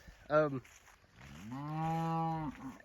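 Cattle in a grazing paddock let out a short low moo, then after a pause a long, sustained moo lasting about a second, close and clear over quiet outdoor background.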